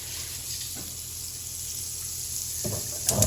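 Butter melting with pressed garlic in a pot gives a soft, steady sizzling hiss, with a brief clatter of cookware near the end.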